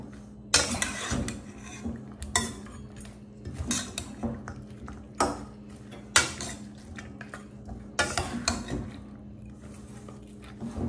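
Lemon juice, onion and cucumber being mixed together in a bowl: a steady run of spoon clinks, scrapes and clattering knocks against the dish, close and fairly loud, with no talking.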